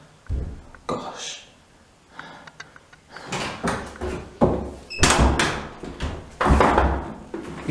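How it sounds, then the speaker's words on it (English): An indoor door is handled with several knocks, rattles and wooden clunks as it is unlocked and swung open, loud and close, mixed with a few brief voices. "Unlock the door."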